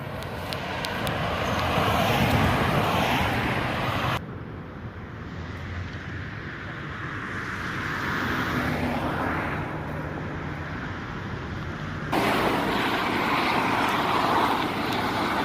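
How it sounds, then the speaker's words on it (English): A steady, loud roar of Los Angeles road traffic around 6:10 in the morning, engines and tires rumbling continuously, mixed with gusty wind buffeting the microphone; no talking. "Los Angeles traffic"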